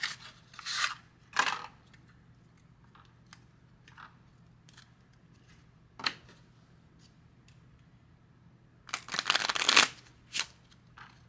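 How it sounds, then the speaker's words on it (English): A stiff deck of playing cards is shuffled and riffled in a few short, crisp bursts, with a longer, louder riffle near the end, close by in a quiet room. "We've got our deck of cards."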